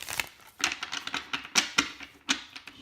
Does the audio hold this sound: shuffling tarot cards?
yes